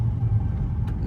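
A 2019 Dodge Charger Scat Pack with long tube headers, downpipe and straight-pipe exhaust with no cats idles in a deep, steady low rumble close by, while a person talks over it.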